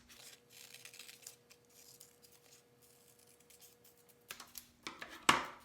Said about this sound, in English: Then we're going to cut that out. Cut on the line.